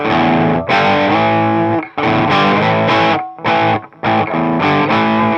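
A loud, heavily distorted electric guitar riff plays close up, chunky chords in choppy phrases with brief gaps between them.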